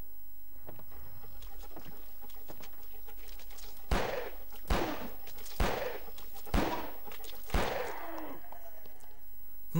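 Five sharp gunshots ring out in the horror video game Filthbreed, spaced about a second apart, loud and echoing against a quiet ambient hum.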